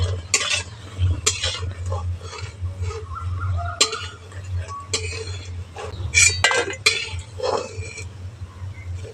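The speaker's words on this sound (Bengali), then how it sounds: "চাপড়গুলো ভাজা হয়ে গেছে এগুলো তুলে নিচ্ছি" Fried vegetable chapor fritters being lifted out of a frying pan, heard as scattered metal clinks and scrapes of a utensil against the pan, with faint sizzling under a steady low hum.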